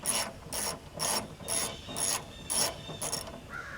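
Close, rhythmic clicking comes from a ratchet wrench being worked in steady back-and-forth strokes, about eight bursts of metallic ticks evenly spaced around half a second apart, with no voices.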